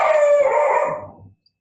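A dog lets out a single loud, sustained howl nearby that slowly trails off into silence.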